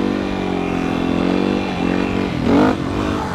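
A motorcycle engine idling and revving gently during slow wheelies, a steady mid-pitched drone with a short throttle rise near the end, close and alone.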